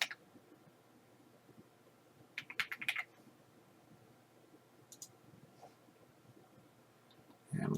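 Short bursts of quiet computer keyboard typing for a search, a few quick clicks between faint pauses, heard close and alone with no speech.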